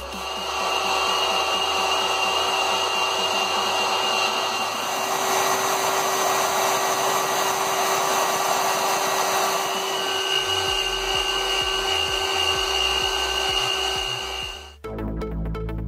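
A Maslow CNC machine runs with a continuous motor whine and hum that shifts in tone partway through, then cuts off abruptly near the end.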